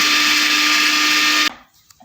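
A kitchen mixer grinder whirs loudly and steadily as it grinds coconut, ginger and garlic in a mixie jar, then shuts off abruptly, leaving near silence.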